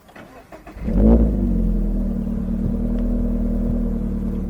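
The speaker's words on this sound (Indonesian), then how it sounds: "Kita injak kopling, Habis itu baru kita nyalakan tombol start stopnya." A Subaru BRZ boxer engine cranks briefly, catches with a loud flare of revs, and then settles into a steady, deep, close idle that continues to the end.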